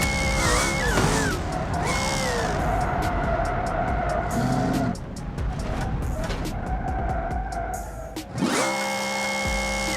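A supercharged BMW in BeamNG.drive revs hard and accelerates, its loud engine whine rising and falling through gear changes with tire noise, close and continuous, briefly dipping before roaring again.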